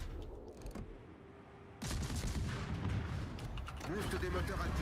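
Ship guns firing in World of Warships, aimed at a T-22 with a Murmansk cruiser nearby: sharp cannon reports, then a sustained loud barrage of artillery rumble and blasts, with voices talking faintly under the gunfire.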